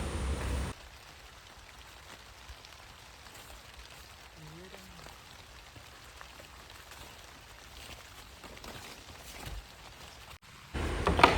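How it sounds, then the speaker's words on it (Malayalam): Light drizzle falls steadily at a hillside forest viewpoint in Kannur, Kerala, a faint, even patter held low and continuous, with a brief murmur of voices partway through and louder handling noise at the very start and end. "ചെറിയൊരു ചാറ്റൽ മഴ"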